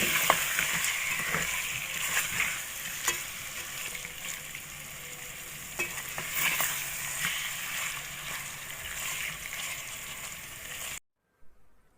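Cleaned tripe (ojri) frying in masala in a pan, a continuous bright sizzle with scraping stirring strokes and occasional wet sloshes, close and steady, then cutting off abruptly near the end.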